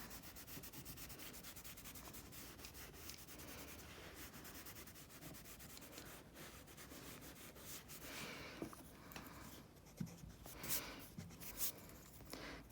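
Pencil rubbing and blending on paper while shading lips in a drawing, a soft continuous scratchy friction that runs steadily throughout, with slightly stronger strokes near the end, no talking.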